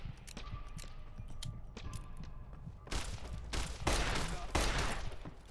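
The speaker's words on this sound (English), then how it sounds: "I can shoot them in the head, and they still take so many shots" Gunfire in the video game Fallout New Vegas: a rapid run of sharp shots over a busy background, turning into heavier, denser bursts toward the end, loud and close, with a voice faintly under it.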